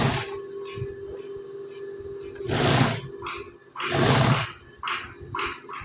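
A sewing machine stitches a blouse in two loud bursts of machine whirring over a steady low background hum, with quieter pauses between runs.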